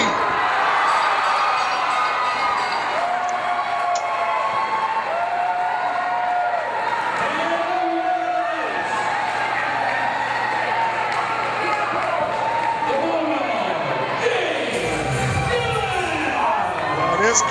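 Wrestling event crowd roaring and cheering after the Bulldog wins, a dense sustained wall of cheers and shouts, with a commentator talking over it.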